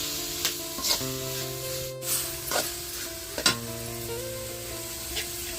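Chicken curry with masala and tomatoes stirred in a hot pan, a steady close sizzle of frying with repeated spoon scrapes and knocks against the pan at irregular intervals.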